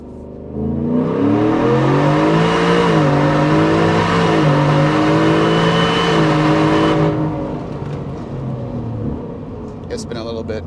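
A 2024 Ford F150 4x4 with the 5.0L V8 accelerates hard, its loud engine note climbing through the gears with brief dips at each shift, then dropping to a quieter idle near the end.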